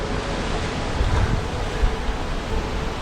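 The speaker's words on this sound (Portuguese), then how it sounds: "E eu já tô ouvindo o barulho da cachoeira." A waterfall in Chapada Diamantina, Brazil, dark almost black water between tall rock walls: a steady broadband rushing roar, loud and continuous, with some wind buffeting and no voices.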